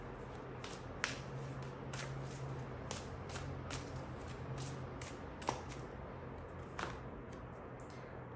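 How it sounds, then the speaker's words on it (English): Oracle cards being shuffled and drawn by hand, soft papery riffles and sharp flicks recurring every second or so, close and quiet with no talking. "let me just pick one more oracle card here for you"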